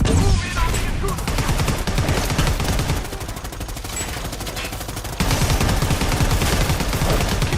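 Sustained rapid gunfire fills a Predator: Hunting Grounds match, dense overlapping bursts from several weapons rattling continuously and loudly with barely a pause.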